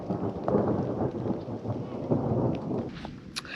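Thunder rumbles low and continuous during a rainstorm at a fly fishing spot, a deep rolling roar with rain hiss layered over it, steady and fairly loud.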